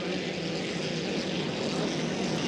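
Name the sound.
racing engines at full throttle during a race final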